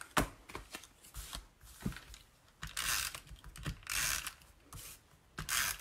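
Scissors cut through a piece of paper bag for a card craft, close up, with several short snips and rustling bursts of paper handling between cuts; no speech.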